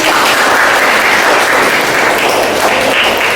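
Applause from a classroom of students during a university teaching session, dense steady clapping from many hands, loud and filling the room for a few seconds.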